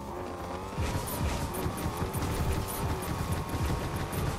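A stuttering, glitching car engine in Fortnite hums with a wavering tone, underpinned by rapid rough pulses and faint repeated high clicks, loud and continuous.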